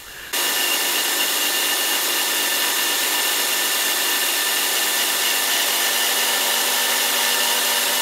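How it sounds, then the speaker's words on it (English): A metal lathe cuts with a carbide insert while a shop vacuum runs close by, forming one loud, unbroken, steady hiss and whine from start to finish. "I have the lathe well covered and I'm using a vacuum to capture the fines and as much swarf as possible"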